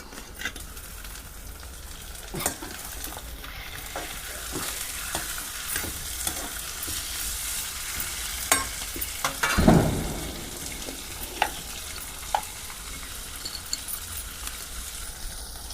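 Chicken curry sautés with onions in a pot on a wood-fire stove, a low, steady sizzle punctuated by sporadic spoon taps and scrapes, with one louder stirring burst midway and no talking.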